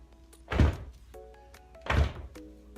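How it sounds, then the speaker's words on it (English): An upholstered wooden seat with no foam padding makes two hollow, woody clunks about a second and a half apart, close and fairly quiet, with faint background tones between them. "the still without foam sounds really woody, and it's really clunky"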